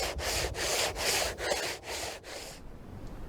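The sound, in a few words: wet sanding boat hull filler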